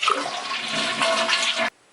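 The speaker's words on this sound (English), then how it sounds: "drain the water from the tank by keeping the flush handle held down" A household toilet tank flushes and drains with a loud continuous rush of water while the flush handle is held down, ending abruptly into near silence.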